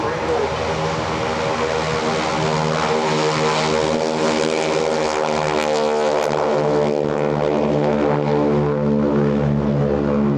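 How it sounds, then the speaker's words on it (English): 600 horsepower World War II trainer airplanes in an aerobatic team display at an air show, a loud continuous propeller engine drone with shifting pitch as they pass overhead, voices faintly beneath. "Listen to the sounds of the 600 horsepower flat-wing"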